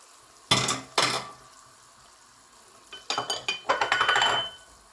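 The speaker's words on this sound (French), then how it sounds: "Je le mélange un petit peu pour que ça soit bien absorbé." Chebakia, sesame and almond pastries, are stirred in honey syrup with close, sharp scraping clinks: two strokes, a pause, then a quick run of sticky knocks and clinks.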